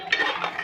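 Paya trotters being stirred into masala in a cooking pot for Lahori paye give a short, steady run of metal spoon scraping and clinking against the pot, close and moderately loud.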